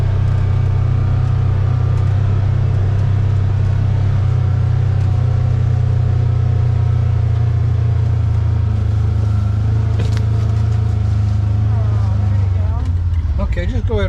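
A UTV idles with a loud, steady engine drone as it creeps toward a truck trailer, the note shifting and rising near the end as it pulls up, while people talk nearby.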